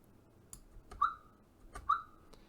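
Two short whistles, each a quick upward chirp settling into a steady tone, spaced about a second apart over faint background hiss.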